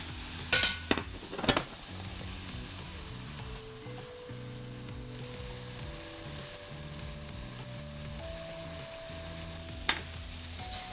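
A spatula stirs mushroom risotto in a pan, a soft steady sizzle with a few sharp scrapes near the start, under quiet background music.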